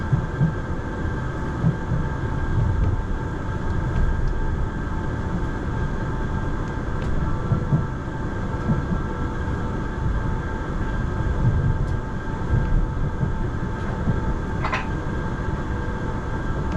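A South Western Railway train near Woking runs on steadily with a continuous low rumble and hum heard from inside the carriage, unbroken for the whole stretch with no talk.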